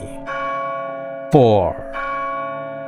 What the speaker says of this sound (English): at noon on the day of the festival the church bell tolled